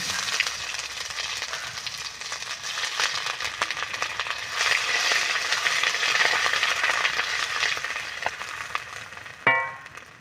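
Cumin and ginger paste frying in hot oil for a fish-head cabbage ghonto, a steady close sizzle and crackle with faint stirring rattles and a sharper clink near the end.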